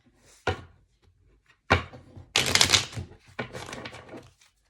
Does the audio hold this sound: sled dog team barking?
no